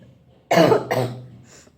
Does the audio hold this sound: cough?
yes